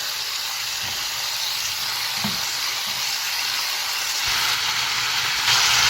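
One or two large onions cut into wedges fry and are stirred in a hot pan, softening rather than browning. A steady, close sizzling hiss runs throughout, with a few soft knocks from stirring.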